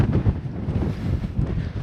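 Strong wind buffets the microphone on a hilltop summit near a temple, a loud continuous roaring rumble with gusting swells and no clear speech.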